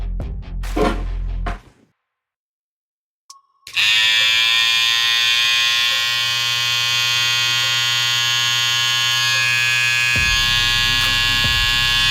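A BRDCLIP X electric hair trimmer switches on after a brief silence and runs with a loud, close, steady high-pitched buzzing hum, then its tone shifts near the end.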